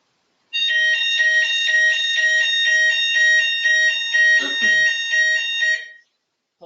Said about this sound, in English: Apologies, that was our fire alarm test.